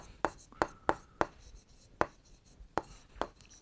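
Chalk or marker writing on a classroom board during a maths lesson, heard as a series of sharp taps and short strokes at irregular intervals, close and fairly quiet.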